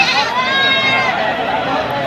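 Goats bleat at the Tebaria livestock market in Natore, a wavering, nasal animal cry close by, ringing out over a low background of crowd murmur.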